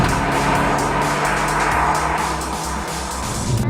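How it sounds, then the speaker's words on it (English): A 2010 Jaguar XJ with a paddle-shift gearbox accelerates hard on a drive in Iceland, shifting into third. The engine roars loud and close throughout with strong road noise and a slight dip partway through. "you can really accelerate up, and then hit the paddle, changes through into third"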